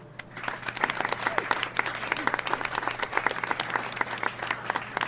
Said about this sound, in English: I'd like you to give a big round of applause